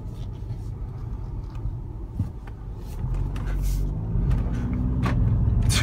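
A 2013 Volkswagen Jetta Sportwagen TDI diesel wagon pulls away, its steady low engine drone and road rumble swelling as it picks up speed, heard from inside the car with no talking.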